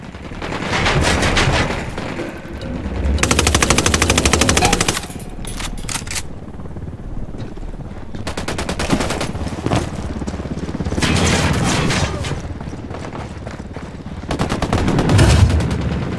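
Bursts of automatic gunfire and heavy shooting in Ghost Recon Wildlands, with loud rapid volleys coming in waves over about sixteen seconds, separated by brief quieter stretches of combat noise.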